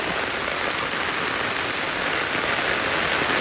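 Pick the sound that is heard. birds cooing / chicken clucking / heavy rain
heavy rain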